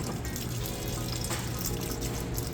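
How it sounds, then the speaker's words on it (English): A Whirlpool front-load washer drains its wash water, a steady close rushing and gurgling flow of water that continues without pause and without voices. "Drain's running nice and fast, getting all that water out."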